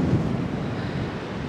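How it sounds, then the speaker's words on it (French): Steady blustery wind roaring across an open microphone on a beach at La Push near Forks, a dense rumbling gust that persists throughout with no voices. "il y a beaucoup de vent"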